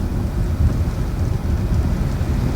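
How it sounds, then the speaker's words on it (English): Steady rain drumming on a moving Ramsey County sheriff's patrol car, a dense, continuous low rumble with no breaks, close and fairly loud. "Sorry about the rain there, folks."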